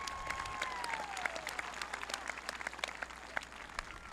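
An audience at a school ceremony applauds Student Council members, sustained clapping with many sharp individual claps at moderate distance, while a faint falling whistle-like tone trails through the opening.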